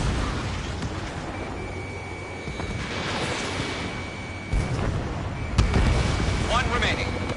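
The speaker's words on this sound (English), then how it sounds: "Mage 2, missile away." Missile launch and explosions in the combat flight game Ace Combat 7, a rushing roar with booming blasts and a sharp bang near the end, under radio chatter.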